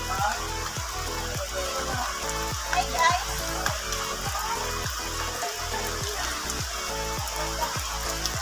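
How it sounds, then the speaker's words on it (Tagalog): Steady rain patters and hisses on a surface throughout in Guinobatan, Philippines, with a repeating rhythmic mechanical thumping underneath. "inabot nga kami ng ulan dito"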